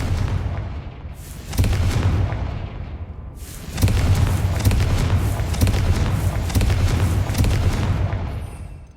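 Booming fire-spell explosions cast in Hogwarts Legacy, with a quieter blast around one second and a heavy, sustained series of loud detonations and crackling bursts from about three and a half seconds onward, no talk.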